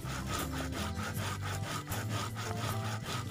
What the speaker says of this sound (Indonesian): Lanjut kita haluskan terus sampai selesai